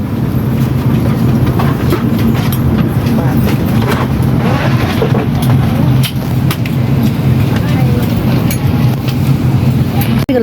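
Inside a moving train, a loud continuous rumble with rattling and faint clickety-clack throughout, and people talking over the noise.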